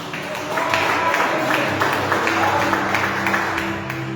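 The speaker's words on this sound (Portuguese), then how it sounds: "Palmas para Jesus." Congregation clapping during a church service, a steady wash of handclaps at moderate level with a low musical drone underneath.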